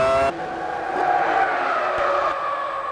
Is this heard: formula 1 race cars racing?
yes